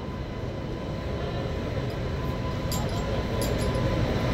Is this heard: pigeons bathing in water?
no